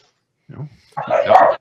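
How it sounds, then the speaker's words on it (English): Dogs bark indoors in a short burst: a brief yip, then a louder run of rough barking lasting about half a second. "sorry for my dogs. They're going batshit."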